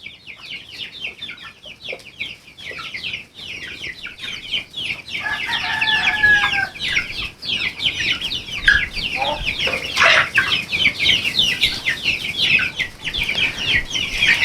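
Chickens cluck busily and continuously up close, with a few longer squawks rising out of the flock's chatter.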